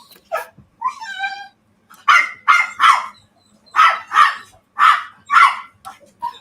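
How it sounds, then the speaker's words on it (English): Dogs at home behind a locked door bark in repeated bursts, several sharp yips and barks in loose clusters with brief whines between, fairly close and loud with no talking. "The door's locked and the dogs are barking."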